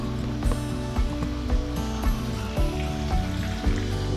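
Pasta water, about a ladle and a half, is poured into a pan of frying garlic for spaghetti aglio e olio, making a steady sizzle and bubbling with soft, rhythmic clinks or stirring taps throughout.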